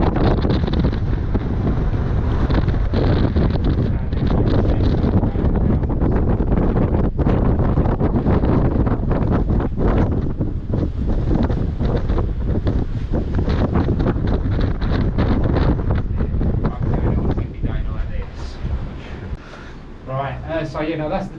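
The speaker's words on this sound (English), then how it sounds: "is it windy?" Strong wind roars and buffets the microphone continuously at the top of Grain Tower, a heavy broadband rush with gusty bursts, while a voice talks underneath it.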